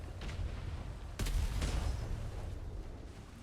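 Cannons firing from a ship in a naval roleplay video game, a dull booming report followed by a second, louder blast with rumbling low-end tail over steady background ambience.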